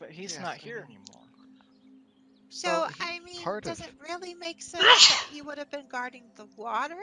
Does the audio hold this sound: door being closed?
no